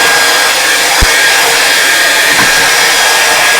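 A hair dryer blows hot air to dry acrylic paint on a canvas, a loud steady whooshing roar held close for the whole stretch with one faint knock partway, no talk.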